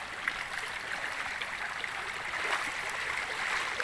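A strong river current in a forest rushes steadily, a broad continuous wash of flowing water heard close and fairly loud with no talking.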